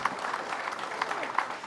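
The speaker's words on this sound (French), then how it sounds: "je vous propose de remercier et d'applaudir," Audience applause thanking the speakers at a breakfast talk event, a soft, fairly distant patter of clapping from a modest crowd, steady throughout with a few sharper claps.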